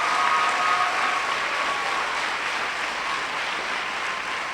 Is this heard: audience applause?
yes